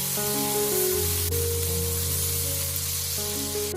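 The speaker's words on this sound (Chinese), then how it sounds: "翻炒出葱白的香味。" Scallion whites stir-fry with minced pork in a hot wok, giving a steady sizzle and hiss under a held musical tone.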